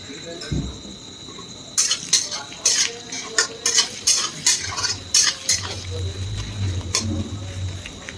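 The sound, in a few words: onions and chillies frying in oil, being stirred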